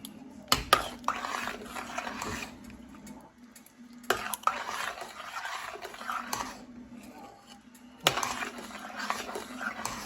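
A spoon stirs a thick, sticky glutinous rice dish in a pan, scraping and mixing in repeated slow bursts with a faint sizzle underneath, fairly close.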